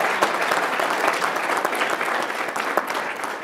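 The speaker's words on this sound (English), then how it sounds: "So please give yourself a round of applause." An audience at a veterans conference applauds, a dense, steady wash of clapping from many hands that carries on throughout at an even level.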